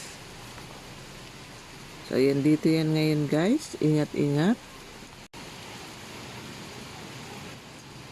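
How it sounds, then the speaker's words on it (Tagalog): Rain falls outdoors during a thunderstorm as a steady, even hiss across the whole clip, with a brief stretch of talking over it in the middle. "Sabayan pa ng ulan, kidlat, yan, thunderstorm, hayan."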